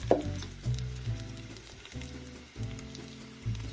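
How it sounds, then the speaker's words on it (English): Butter sizzles and crackles in a pan with potatoes, a steady frying hiss that swells in a few bursts as the pan is moved or stirred, close and moderately loud. "So now we're going to add the butter."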